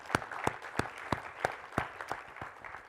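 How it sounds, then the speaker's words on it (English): Audience clapping at a school district's State of the District address, sounding as a sparse, regular series of sharp claps spaced about a third of a second apart, fairly close and fading slightly toward the end. "So big round of applause for our efforts."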